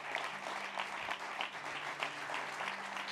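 Sustained audience applause fills a press association event presenting a journalism podcast, a dense, steady clatter of many hands clapping at a moderate distance with no pauses, no voices rising above it.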